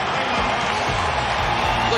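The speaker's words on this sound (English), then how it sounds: "The crowd into it in the dome." A basketball crowd in the Syracuse dome roars steadily during a St. Bonaventure at Syracuse game, a broad, sustained wash of cheering from a large arena with a commentator talking over it.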